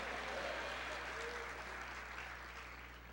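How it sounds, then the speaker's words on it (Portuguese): A church congregation claps steadily and continuously, a dense wash of applause that fills the room with faint voices mixed in. "Pode ser mais alto as suas palmas."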